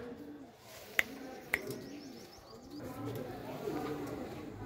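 Home-bred pigeons coo in low, soft, repeated calls, with someone talking nearby and two sharp clicks near the start.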